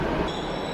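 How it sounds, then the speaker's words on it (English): A Beijing subway train pulls away from the platform, a steady close rumble of rail noise with a thin high whine rising partway through as it departs. "Did I miss the train? We missed the train. It is right there and we missed it."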